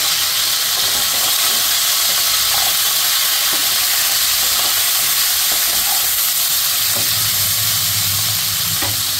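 Cauliflower with turmeric fries in a wok, giving a loud, steady hiss and sizzle that runs throughout, close by, with a few faint clicks and a low rumble near the end.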